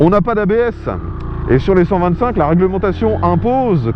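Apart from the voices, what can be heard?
None of the usual background noises is heard.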